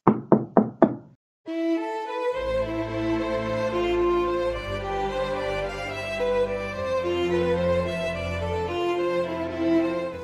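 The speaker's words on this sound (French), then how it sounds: "Et je tape à la porte." Four quick, sharp knocks land on an office door. A sustained swell of music then takes over and holds for several seconds.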